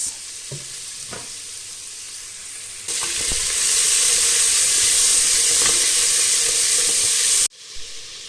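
Onions tossed into hot olive oil seasoned with lemon, a few light knocks then a loud steady sizzle that swells as they hit the pan and stops abruptly near the end.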